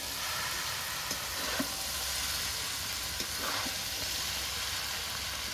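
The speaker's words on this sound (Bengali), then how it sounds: "ভালো করে নেড়ে চেড়ে চাউমিনটাকে সুন্দর করে ভেজে নেব" Chicken chow mein sizzles steadily in a hot wok while a utensil scrapes and stirs now and then; constant frying hiss, no voices.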